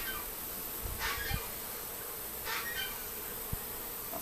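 A swarm of honey bees drones with a continuous, close buzzing hum, with a few brief louder passes and small knocks over the steady insect noise.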